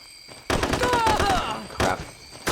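Gunfire from a SOCOM 3 US Navy SEALs firefight: a loud burst of rapid shots opens sharply and rolls on for over a second, with further short bursts after brief gaps, and a voice talking over the shooting.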